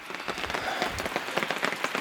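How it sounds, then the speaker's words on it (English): Steady rain pattering on surfaces at a bush campsite, a dense, close crackle of drops falling continuously with no voices. "here comes another bout of rain"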